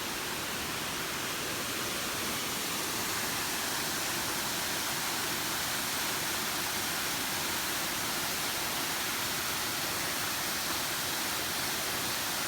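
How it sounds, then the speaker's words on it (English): Martin Creek Falls, a waterfall near the Chattooga River in the Southern Appalachians, gives a steady, dense roar of rushing water that holds at an even level throughout, with no voices. "I think this is Martin Creek Falls."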